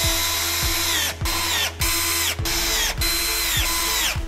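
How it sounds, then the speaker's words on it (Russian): A cordless screwdriver drives screws from the hardware kit into the rail of a white single bed frame, its motor whining in repeated bursts of about half a second, each rising in pitch as the screw tightens, loud and close. "Мастер на видео использует шуруповерт."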